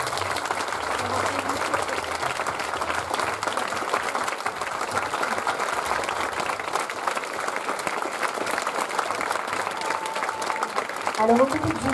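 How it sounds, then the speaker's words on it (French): An audience at a fashion show gives sustained applause, a dense, even clapping that fills the whole stretch at steady loudness, with no talk over it. "Je crois que vous pouvez vous applaudir encore."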